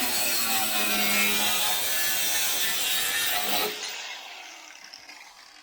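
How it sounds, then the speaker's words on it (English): A piece of metal on a Range Rover is cut off with a harsh, continuous grinding rasp for several seconds, close and loud, then it stops abruptly, leaving quiet. "I'm going to go and cut that piece of metal off now"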